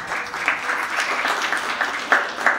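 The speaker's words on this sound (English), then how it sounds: "So you should give yourselves a round of applause for being here tonight." Guests at an evening benefit gala clapping for themselves, steady moderate applause from a seated crowd with a few sharper nearby claps.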